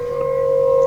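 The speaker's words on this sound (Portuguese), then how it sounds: "Agora está-se a ouvir a sirene do meio-dia aqui junto aos bombeiros" Noon siren sounding from a fire station, a steady sustained wail holding a constant pitch, loud and rising slightly in volume, with no talk over it.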